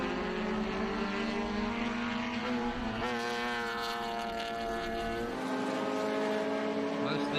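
Vintage race cars including Lotus Super 7s at the Mid-Ohio circuit, engines droning steadily with one car passing close and loud midway, its pitch sliding down as it goes by, and a commentator's voice over the top.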